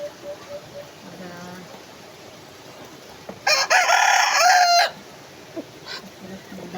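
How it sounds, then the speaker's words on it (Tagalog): Chickens cluck softly nearby, then a rooster lets out one loud, close crow lasting over a second, followed by more scattered clucks around outdoor cooking. "daming nag-abang ng mga manok."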